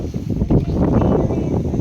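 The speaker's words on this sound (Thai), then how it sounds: "ตอนนี้ลมมาแล้วครับ" Strong wind at a reservoir buffets the microphone in loud, rumbling gusts that swell and surge continuously without talk.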